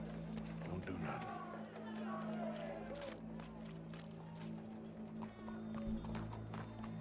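A horse's hooves clip-clop in Red Dead Redemption 2, with a whinny near the start and a steady low hum beneath, as voices talk over it.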